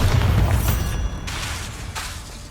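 Bombarda blasting spell cast in the game Hogwarts Legacy, a loud, close, booming burst that fills the moment before fading into a rumbling tail.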